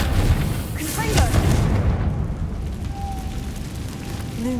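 Confringo, the blasting spell, sets off a heavy booming explosion with a crackling burst near the start that fades into a rumbling tail, with a voice speaking over it.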